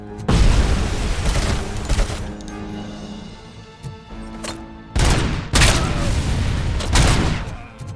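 Grenade explosions and bursts of gunfire from the RoboCop: Rogue City video game, two dense loud clusters of blasts and shots separated by a quieter stretch with scattered single hits.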